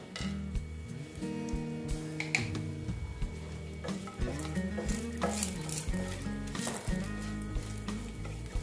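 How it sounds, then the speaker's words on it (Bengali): Bay leaves and whole garam masala sizzle steadily in hot oil, a continuous crackling hiss that runs beneath a louder bed of tonal background music, with no voices. "ফোড়নে দিচ্ছি তেজপাতা, তারপরে দিচ্ছি গোটা গরম মশলা"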